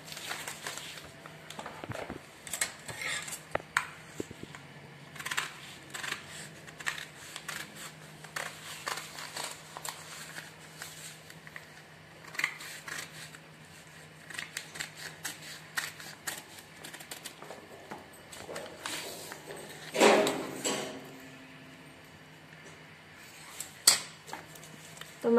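Scissors cut fabric for an off-shoulder suit, giving a run of close, quiet snips and crisp clicks over soft rustling of cloth, with a few louder handling knocks and no voices.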